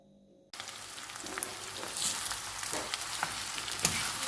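Potatoes fry with onions in a pan for a breakfast dish: after a brief near-silence, a steady crackling sizzle starts abruptly and swells, with occasional stirring clicks.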